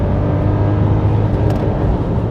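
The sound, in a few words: Mercedes-Benz W124 E500 engine revving into the rev limiter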